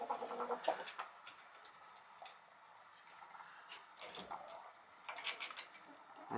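Chickens and a rooster in a snowy coop give soft scattered clucks and short calls, faint and close, separated by quiet gaps and occasional rustling.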